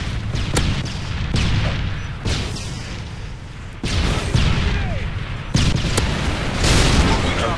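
A stun grenade bursts in a Call of Duty Modern Warfare 3 flag match, among repeated heavy booms and sharp blasts spread over several seconds, loud and close, with a voice speaking over the combat.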